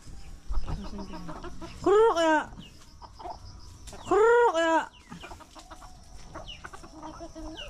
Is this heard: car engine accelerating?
no